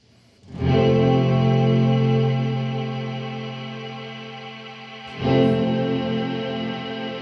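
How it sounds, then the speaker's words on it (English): Guitar chord played through a Death By Audio Rooms gated reverb pedal, two strummed chords each swelling into a thick, sustained wash of effected reverb that slowly fades, loud and alone. "So you hit the chord, you get a reverb."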